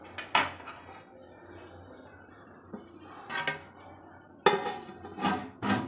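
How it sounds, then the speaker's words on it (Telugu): A metal lid set onto a pot of Andhra-style tamarind fish curry, with several loud, close clanks and scrapes of metal on metal separated by short quiet gaps. "ఇలా కుదుపుకున్నాక మనం ఒక 5 నిమిషాలు మూత పెట్టేసుకుందాం"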